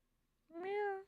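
A human voice imitates a cat's meow, one short rising-and-falling tonal call, fairly quiet and alone.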